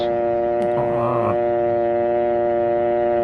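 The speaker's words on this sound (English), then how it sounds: "And listen for the dial tone." A steady telephone dial tone hums continuously, with a brief warbling burst of other sound partway through, then the even tone carries on.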